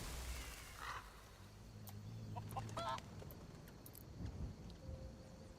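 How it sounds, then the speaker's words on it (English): Chickens in Skyrim at Half Moon Mill give short honking, fowl-like calls, a few scattered bursts over a steady low ambient game hum. "Chickens."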